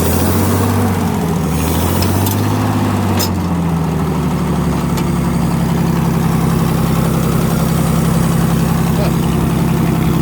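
A propane-converted flathead Ford engine in an old Motowlift forklift idles with a low, continuous rumble, a smooth even throb and brief clanks early on; people talk faintly over it.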